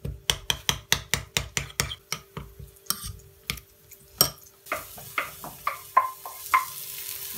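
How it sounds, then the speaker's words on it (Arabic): Parsley, tomato, spices and salt stirred together in a frying pan, a run of sharp, evenly spaced spoon taps and scrapes followed by softer scraping over a gentle sizzle. "بحط البقدونس، البندورة، البهار والملح، بحركهم مع بعض شوي"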